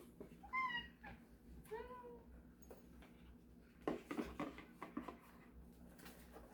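A cat meows twice indoors, each a rising, drawn-out cry, followed by rustling and soft handling noises, heard close and fairly quiet.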